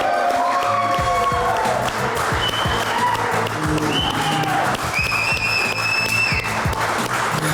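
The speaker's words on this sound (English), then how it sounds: "So please give them a big round of applause." Audience applauding championship winners at a Force on Force Championship prize presentation, steady dense clapping throughout with some crowd noise and faint voices over it.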